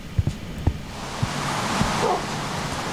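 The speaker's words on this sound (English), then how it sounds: "Don't bark at me." A dog in the video game Gamestercraft barks several times in short yips over the first second, followed by a steady wash of game noise.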